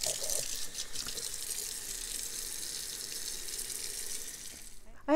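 Tap water runs into a kitchen sink with a couple of drops of dish detergent, a steady close hiss of pouring water lasting several seconds before a brief clatter at the end.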